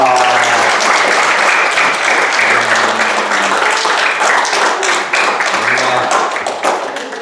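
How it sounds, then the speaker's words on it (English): A group at a camp gathering applauds after someone shares, a loud and close wash of continuous clapping. It holds steadily for several seconds with faint voices underneath, then begins to taper at the end. "Let's give them a round of applause."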